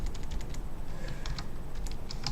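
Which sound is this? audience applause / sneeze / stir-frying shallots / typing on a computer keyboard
typing on a computer keyboard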